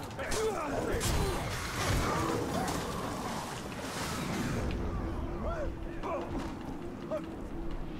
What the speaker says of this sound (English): I think you gotta time those explosions really well